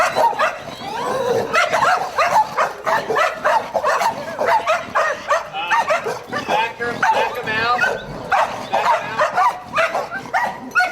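A reactive shelter dog on its first visit to a playgroup, barking and yipping in rapid repeated bursts at close range, mixed with whimpers and overlapping people talking throughout.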